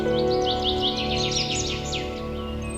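Birdsong alone: a run of rapid, bright chirps and whistled trills repeating over about two seconds, fairly close and clear above a steady low background hum.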